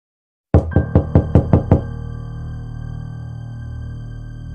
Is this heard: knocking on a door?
yes